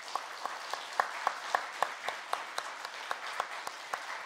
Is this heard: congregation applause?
yes